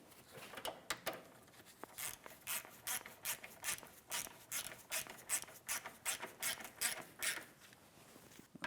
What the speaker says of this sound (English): I have it on a ratchet with an extension